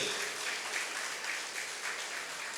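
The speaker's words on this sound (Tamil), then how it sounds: "அவர்களுக்கும் ஒரு பலத்த கரகோஷத்தோடு" An audience at a felicitation event in Thanjavur claps, a soft, even patter of many hands heard from a distance, quiet and unbroken.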